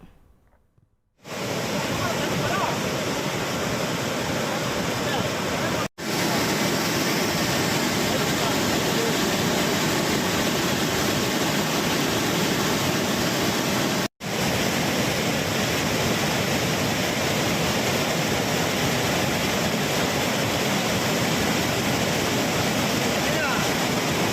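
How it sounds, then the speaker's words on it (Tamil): Water from the Kuppanatham dam, overflowing after heavy rain in the Javadhu hills, gushes in a loud, continuous roar close by. Two brief dropouts break the sound, and no one talks. "கனமழையால் குப்பநத்தம் அணை நிரம்பி ஆறாயிரத்து நானூறு கன அடி தண்ணீர் வெளியேற்றப்படுகிறது"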